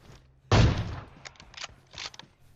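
A single loud AWM sniper rifle shot cracks out in PUBG Mobile, followed by a few fainter mechanical clicks and thuds from the bolt and surrounding gameplay.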